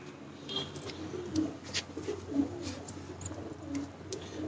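A golden pigeon coos softly while being held, giving several low, rounded coos at a moderate distance, with light rustling and a few sharp clicks between them.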